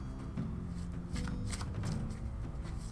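A deck of affirmation cards being shuffled by hand, a steady riffling patter of card edges close up and alone, with no talking over it.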